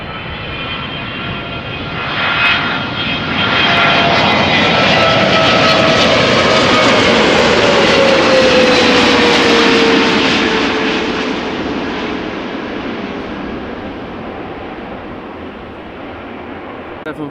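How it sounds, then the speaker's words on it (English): A large passenger jet or freighter landing at Amsterdam Schiphol Airport roars past fairly close, swelling from about two seconds, holding a loud broad rumble with a descending whine, then slowly fading as it moves away. "Freighters and 300s make such a lovely noise when they pass you by when they are landing."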